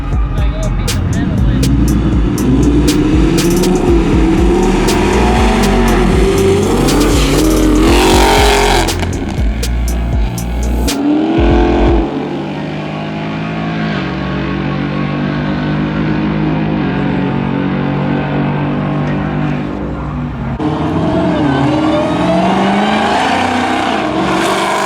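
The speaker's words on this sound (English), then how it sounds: "Stock Mustang on the left, ESS G3 on the right, 400 horsepower versus about 950." Drag race at Muncie Dragway pitting a stock 400-horsepower Ford Mustang against a roughly 950-horsepower ESS G3 car: loud, sustained engine roar and revving throughout, with a sharp break midway and a voice talking over it.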